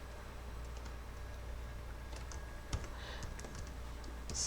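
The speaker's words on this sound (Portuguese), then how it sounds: "Vou digitar aqui" Someone types VBA code on a computer keyboard, giving a few soft, scattered key taps over a steady background hum. The taps are faint and close, with a slightly sharper click near the middle.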